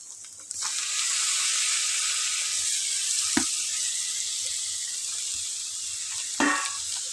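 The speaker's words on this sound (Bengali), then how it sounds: "দিয়ে দিলাম টমেটো দেওয়ার পরে এই যে খুন্তি দিয়ে নেড়ে চড়ে" Tomatoes added to a hot pan with fried egg, a sudden steady sizzle rising and holding, with a couple of sharp spatula knocks and stirring scrapes, close, no voices.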